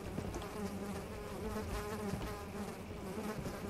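Flies buzzing in the Amnesia video game, a continuous close droning hum that wavers slightly, sounding alone without voices.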